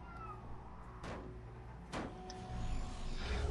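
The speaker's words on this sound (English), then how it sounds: "Oh, and there's a cat." A cat meows indoors, a couple of faint, brief calls over a low steady room hum, with a soft thud near the end.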